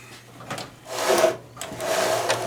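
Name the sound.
Husqvarna snowblower part swivelled back and forth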